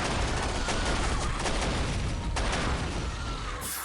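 Dense, loud gunfire from shotguns in the 2005 video game Area 51, a continuous barrage of blasts with no pauses, up close throughout.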